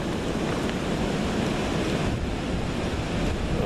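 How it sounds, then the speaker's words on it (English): Strong wind gusts outdoors where a creek flows into a river before storms, a steady, loud roar and buffeting that fills the whole stretch with no break and no voices. "It's really windy out here today."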